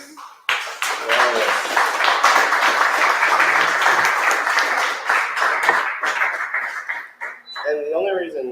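A conference audience at CityJS HalfStack Belgrade 2023 breaks into loud, sustained applause for a speaker, steady clapping filling the room for several seconds, with a voice talking briefly before it and again as it dies down.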